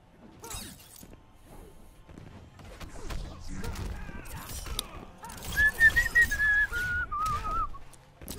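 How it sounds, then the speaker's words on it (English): A person whistles a short wavering tune, rising and falling in pitch, over the clatter and thuds of a Mortal Kombat X fighting game, with brief hits and game noise around it. "I shouldn't be whistling."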